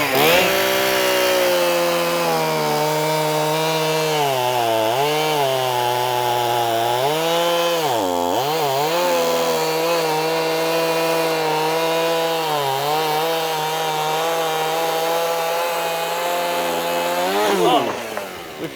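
A Stihl MS271 gas chainsaw roars continuously and loudly up close, its engine pitch dipping and rising repeatedly as it bites into a log.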